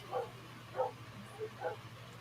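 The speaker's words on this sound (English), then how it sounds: "The puppies say that there somebody's here." Puppies let out three short, yipping barks at someone arriving, fairly faint and spaced about half a second apart over a steady low hum.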